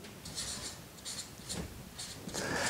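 Algebra is written by hand in quick, soft scratchy pen strokes, arriving in several short bursts separated by brief pauses.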